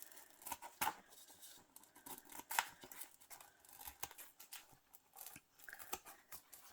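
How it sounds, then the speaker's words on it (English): Scissors snip through chipboard in a run of sharp, close cuts, with a few louder crunching snaps spaced irregularly among quieter clipping strokes. "Might be better if you have a smaller pair of scissors that can get a little bit closer to the chipboard"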